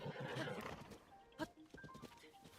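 A horse whinnies in Zelda: Tears of the Kingdom, one short neigh rising out of busy game sounds and hoofbeats, followed by scattered small effects; a voice talks faintly early on.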